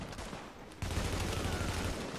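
Gunfire in the video game The Division: a short quiet stretch, then a dense, continuous burst of rapid shots that keeps going to the end.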